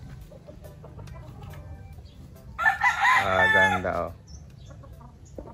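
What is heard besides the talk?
Kelso sweater gamecock rooster crowing and clucking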